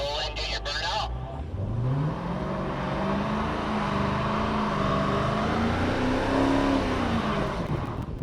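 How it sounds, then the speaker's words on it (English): A Dodge muscle car on line lock revs hard during a burnout, its engine note climbing and holding with a gritty tire-spinning roar, while a person talks over it. "Go ahead and roll in, do your burnout."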